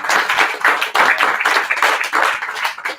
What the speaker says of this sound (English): So how about a big round of applause for all the staff?